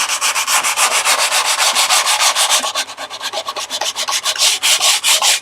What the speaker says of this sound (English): So now, a little bit of hand sanding,